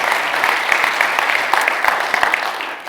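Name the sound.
audience applause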